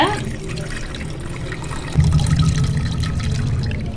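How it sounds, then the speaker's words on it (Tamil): Cotton seed milk trickles and splashes through a sieve, a steady close pouring sound that grows louder midway, with a voice talking over it. "அதை வந்து வந்து ஒரு ஜல்லடை வச்சுட்டு நல்லா வடிகட்டி எடுத்துக்கோங்க"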